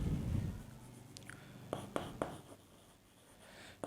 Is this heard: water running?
no